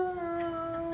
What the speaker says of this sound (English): This is a wolf howling at the zoo